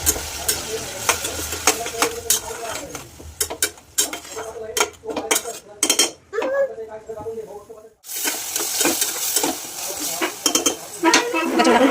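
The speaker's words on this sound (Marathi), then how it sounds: "आपण ही मस्तपैकी तेलामध्ये थोडीशी फ्राय करून घेऊया." Ground spice paste fries in hot oil with turmeric for a Maharashtrian chicken dish, a loud continuous sizzle broken by spoon scrapes and clinks of stirring against the pan, with a brief lull before the frying surges back.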